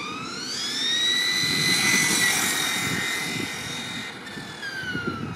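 A Thunder Tiger Bushmaster RC car on 4S power makes a speed run at full throttle, its electric motor giving a loud high-pitched whine that swells and bends in pitch as it passes, then fades.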